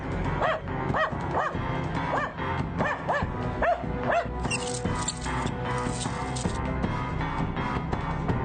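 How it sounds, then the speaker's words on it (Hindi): Dogs bark in a repeated, fairly steady rhythm beneath loud dramatic background music in a Hindi horror television serial, the barks distinct but partly masked by the score. "जब भी कुत्ते इस तरह भौंकते हो या इतना अजीब बिहेव करते हो"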